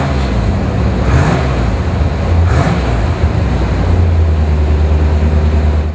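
A fuel-injected 1982 Chevrolet Corvette Stingray engine runs steadily close by, a loud, deep, even rumble with a couple of slight throttle swells.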